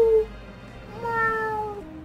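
A human voice imitates a cat, giving two drawn-out, sliding meows one after the other, fairly close and clear, during casual commentary over the game Rhapsody.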